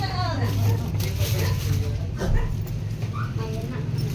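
A dog barks and yips amid lively chatter, with children's voices and background noise throughout.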